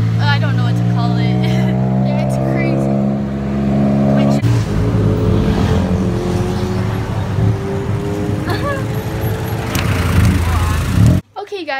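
Steady car engine drone from inside a taxi in Thailand, a low harmonic hum shifting in pitch as the vehicle changes speed, with voices talking over it throughout.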